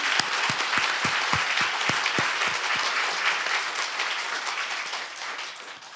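A church congregation applauds during a Sunday worship service. The sound starts with a few distinct rhythmic claps, then becomes dense, steady applause that fills the room and gradually fades toward the end.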